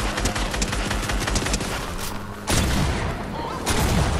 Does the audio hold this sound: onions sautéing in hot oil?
no